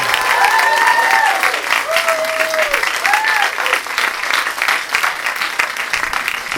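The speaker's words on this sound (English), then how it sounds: "Big round of applause for Ruben VM!" Audience at a stand-up comedy night in Tokyo applauding steadily and loudly, dense clapping filling the room while a voice calls out over it.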